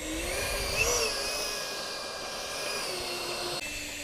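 An Xfly J65 Gulfstream RC jet taxis with a steady whining turbine tone that rises slightly early on, then settles into an even hum near the listener, with no talk.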